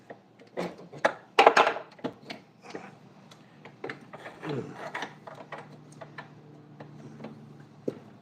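A spool being set up to take braided fishing line gives off a run of dry mechanical ticks and ratcheting clicks, irregular and close, with a louder burst of clicking early on and no voices.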